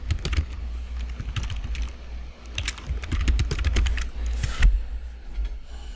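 Quick, uneven clatter of keys from typing on a computer keyboard, close and continuous over a low background hum.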